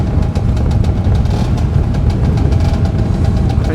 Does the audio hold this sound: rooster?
no